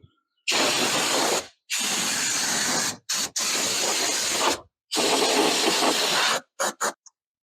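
Loud bursts of compressed air blasting close by while blowing out a car engine bay, several long hissing blasts separated by short pauses, ending with a few quick spurts.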